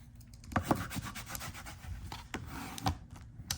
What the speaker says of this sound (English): Burnish that in there, like so.